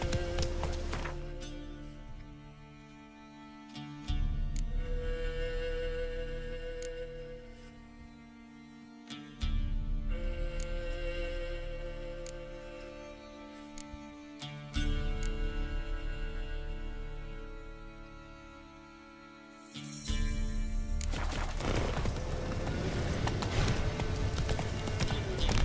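Roach, a horse in the video game Witcher 3, gallops with loud, rapid rhythmic hoofbeats that come in surges, fade, then return, ending in a burst of louder rumbling movement.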